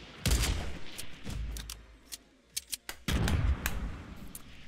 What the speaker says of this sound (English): these guys are shooting rockets at me now